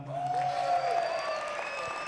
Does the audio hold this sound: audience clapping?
yes